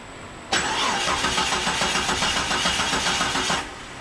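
A Jeep engine, fitted with a new crank sensor, cranks loudly and close for about three seconds, the starter churning in a fast regular rhythm, then stops without catching.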